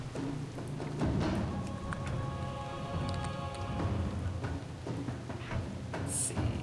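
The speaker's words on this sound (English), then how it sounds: "Rain? Our shaman said the skies would be clear." Steady rain falls across an island shoreline in World of Warcraft's Exile's Reach starter zone, a continuous even hiss with no breaks, joined by a faint tonal hum partway through.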